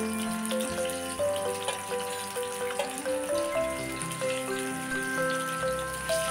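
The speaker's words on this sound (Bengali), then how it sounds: "তেল ভালোভাবে গরম করে নিয়ে তার মধ্যে রুই মাছ ভাজতে দেব" Pieces of rohu fish fry in well-heated oil in a pan over medium heat, a steady close sizzle with crackling pops running throughout, no voices present.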